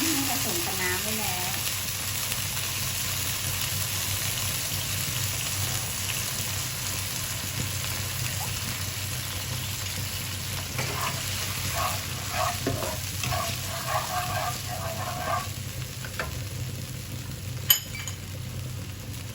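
Garlic fries in a pan with oyster sauce, giving a continuous close sizzle with rustling stirring strokes through the middle and a single sharp utensil clink near the end.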